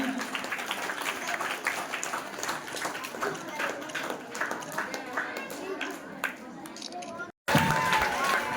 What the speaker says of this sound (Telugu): అందరూ గట్టిగా చప్పట్లతో అభినందించాలి